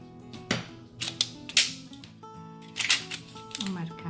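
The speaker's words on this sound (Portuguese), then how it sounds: "e vou cortar uma tira com a tesoura mesmo" Scissors snip through a thin strip cut from an aluminum can, giving several sharp, crisp cutting bursts in an irregular rhythm, close and fairly loud against a quiet background.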